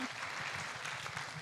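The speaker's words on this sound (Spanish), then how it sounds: "Un aplauso." Audience applause at a conference talk, a short, dense patter of clapping heard at moderate distance with no voices over it.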